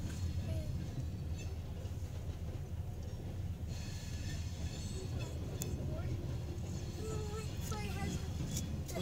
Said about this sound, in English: We're stuck by a slow-moving CSX freight train.